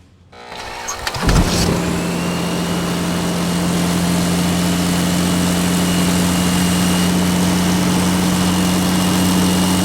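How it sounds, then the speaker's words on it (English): A twin turbo diesel V8 engine turns over and catches, then runs as a runaway diesel at a steady, loud, droning idle that continues unbroken. "It seems like we are encountering a runaway diesel engine."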